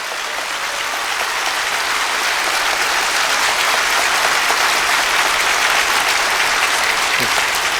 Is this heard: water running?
no